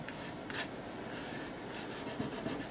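A glued paper piece is rubbed by hand onto a handmade Christmas wreath card, giving a close, continuous soft rasping friction with a few brief scuffs.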